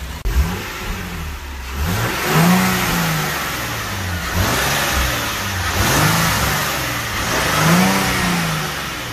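A Nissan 370Z engine fitted with K&N filters revs repeatedly, rising and falling in pitch over a throaty idle, loud and close.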